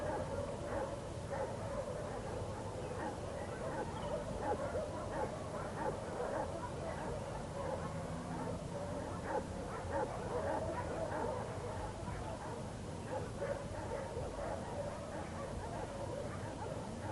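A litter of young puppies on a dog farm yip and whimper in rapid, repeated high little cries that fill the whole stretch at a soft, even level.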